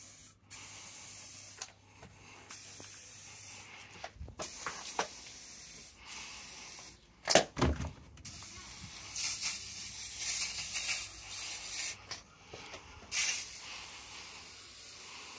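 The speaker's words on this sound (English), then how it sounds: "Time to give the bike a good spray" WD-40 aerosol sprayed onto a bicycle in several short and longer hissing bursts, close and fairly quiet, separated by pauses and handling clicks.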